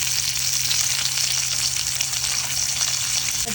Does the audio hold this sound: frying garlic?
yes